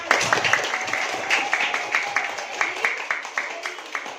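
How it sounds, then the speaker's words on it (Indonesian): Students in a classroom clap together in a patterned rhythm, a series of regular close hand-clap bursts at moderate volume with little else around them. "Tepuk tangan buat kita semua."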